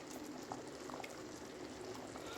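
Ginger and sugar syrup simmers in a pan over low heat, giving a steady, quiet bubbling hiss with a few soft pops, no voices.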